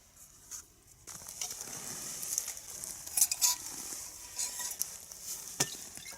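Rain patters steadily on a tarp shelter at a wild camp on Gutter Tor, a close, continuous hiss with scattered sharper drops rising a little in intensity, and no one speaking.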